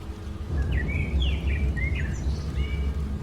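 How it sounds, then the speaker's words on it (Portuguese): Several birds chirp and trill in short, bright phrases over a steady low rush of wind in a jungle, the calls fairly close and clear. "Ouço apenas aves cantantes e o ruído do vento."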